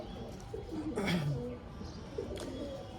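Green pigeons give soft, low coos close by, with a voice talking over and between the calls.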